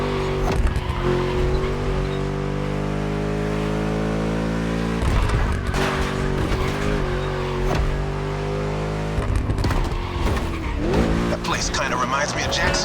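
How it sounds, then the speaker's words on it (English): A V8 engine revving hard in The Crew Motorfest racing game, a deep, chunky harmonic roar rising and falling through gear changes with tire squeal, while a voice talks over it. "Just listen to that V8 like a chunky, down-tuned guitar riff."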